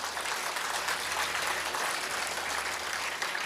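Audience applause at a Tamil public speech, a dense, even wash of clapping that holds steady for several seconds without speech.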